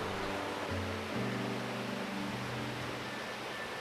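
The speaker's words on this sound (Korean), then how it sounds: "천불동 계곡의 끝에서 우렁찬 소리와 함께 나타나는 한 줄기 폭포" A single waterfall at the end of Cheonbuldong valley in Seoraksan roars as a steady, broadband rush of falling water, continuous and fairly soft, with a faint low hum underneath.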